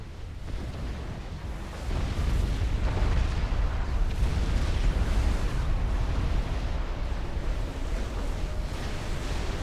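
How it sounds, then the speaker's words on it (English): Continuous dense rumbling booms of long-range artillery stations firing in a Supreme Commander 2 4v4 battle, a heavy sustained barrage of overlapping explosions with no gaps. "being targeted by the long-range artillery stations"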